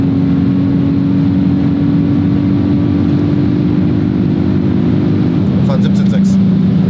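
A Hyundai i20 N fitted with a Race Chip tuning box accelerates hard, heard from inside the car as a loud, steady engine drone with a gear change near the end.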